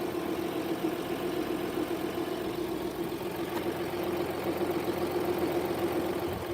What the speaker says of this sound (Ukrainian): Послухайте роботу мотора.